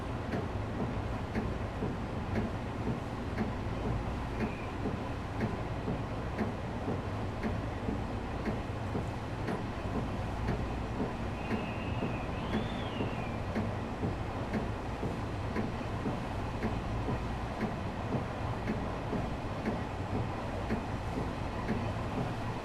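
A 10-carriage Long Island Rail Road train runs steadily in Train Sim World, a continuous loud rumble with rhythmic wheel clicks on the rails and a brief high squeal partway through.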